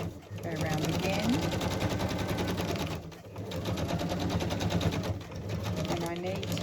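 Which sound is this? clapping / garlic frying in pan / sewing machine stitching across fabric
sewing machine stitching across fabric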